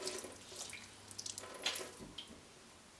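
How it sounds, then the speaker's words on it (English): Preserved mustard greens (mui choy) rinsed under running tap water into a sink, a steady close splashing flow with small drips, no talking. "Just give the muay choy a quick rinse, and then we're going to squeeze out all of that liquid."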